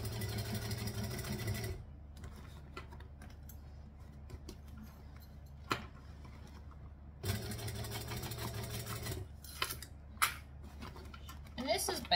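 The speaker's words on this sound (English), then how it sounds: "I'm going to top stitch 1/8 of an inch from the edge." A sewing machine top stitches along the edge of a bag in two steady, humming runs separated by a quiet pause, with a few clicks and handling noises around them.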